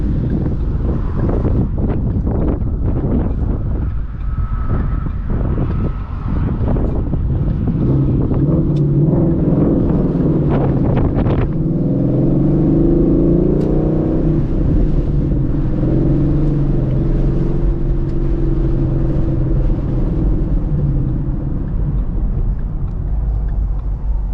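Ford Mustang GT fitted with a Corsa Xtreme exhaust, driving and revving with a loud, steady rumble under heavy wind noise, its engine note rising and settling as it pulls along the road.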